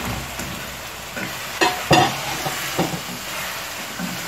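Fried hake fish being stirred into sizzling pepper sauce in a pan: a steady background sizzle broken by a few sharp scraping stirs near the middle.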